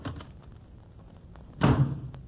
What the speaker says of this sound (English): he bangs the door and leaves